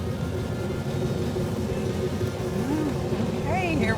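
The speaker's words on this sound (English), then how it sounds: "go for a joyride in a 70 Cuda 446 barrel tribute car" A 1970 Plymouth Cuda 440 six-barrel tribute car with a close-ratio transmission rumbles steadily from inside the cabin as it drives, its engine note rising near the end, with talk in the car over the droning motor.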